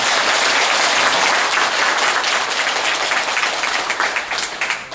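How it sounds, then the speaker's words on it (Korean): Audience applause fills a Buddhist commemorative dharma service, dense and steady for several seconds before thinning slightly at the end. "박수 한번 말이죠"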